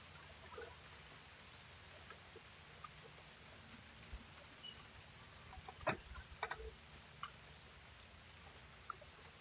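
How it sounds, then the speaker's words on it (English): Soft, steady rain patters in the background with scattered light drops and a brief cluster of louder taps midway, faint overall. "Do you like this ASMR rain action?"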